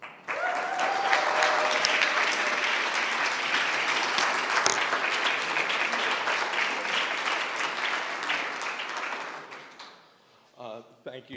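An audience at a university talk on a Native American burial site applauds to welcome the speakers, with steady, full clapping from many hands that holds for about nine seconds, then fades out, followed by faint sounds near the end.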